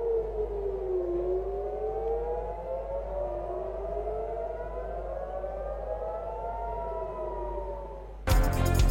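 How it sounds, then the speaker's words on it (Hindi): Air raid sirens wail across Tel Aviv during a missile attack, a long rising and falling tone heard from a distance that holds for several seconds before breaking off abruptly. "मिसाइल हमलों पर इजरायली दारुल हुकूमत में सायरन बज उठे।"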